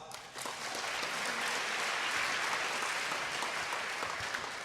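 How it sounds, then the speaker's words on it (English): A crowd at a hackathon opening ceremony applauds steadily, with dense clapping that holds at an even level for several seconds, no voices standing out. "One more round of applause."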